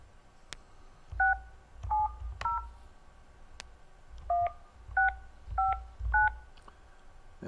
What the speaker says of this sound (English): And we're going to make this phone call here to one of the legendary players in Troy University sports history, and that, ladies and gentlemen, is Wendell